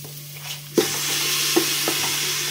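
Bone-in mutton added to a pan with tomato, bursting into a loud sizzle after a sharp drop-in thump, then continuing to fry steadily with a few stirring clacks, near and without voices.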